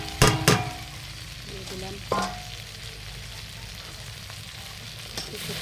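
Fish frying in spiced oil, a soft continuous sizzle with a few sharp clatters of a utensil against the pan near the start, and a brief spoken phrase.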